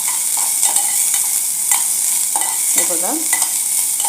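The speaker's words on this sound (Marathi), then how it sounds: "कांदाही थोडा असा गुलाबी रंगावर येईपर्यंत आपल्याला परतून घ्यायचा आहे" Onions and spices fry in a pan for a Kolhapuri-style egg curry, a constant bright sizzle broken by light scraping stirs, with a voice speaking briefly over it.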